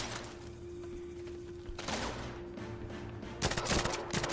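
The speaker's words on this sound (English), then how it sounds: "Just keep shooting." Video-game gunfire crackles in two loud bursts of rapid shots, over a steady background hum.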